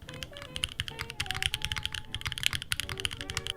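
Rapid typing on a mechanical keyboard fitted with Mirandi switches gives a quick, busy stream of clacky keystrokes, close and fairly quiet, with no voices.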